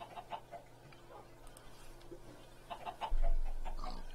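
Blocky game chickens cluck in short, soft bursts from a Minecraft FTB Sky Adventures modpack world, a few scattered calls over low game ambience before a louder thump near the end.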